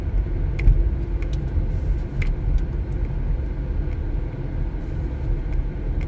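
A sedan car drives along a road, heard from inside as a steady low rumble of engine and tyres, continuous and fairly loud, with a few faint light clicks on top.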